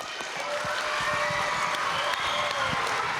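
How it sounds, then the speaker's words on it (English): A school audience applauds its teachers at a gathering in Arizona: a steady, even wash of many hands clapping for the whole stretch, somewhat distant, with scattered louder claps on top. "So give your teachers a round of applause."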